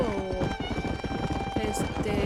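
Horse hooves clip-clop steadily at a trot in the Red Dead Redemption video game, close and rhythmic, with a horse whinnying and game dialogue voices speaking over the hoofbeats.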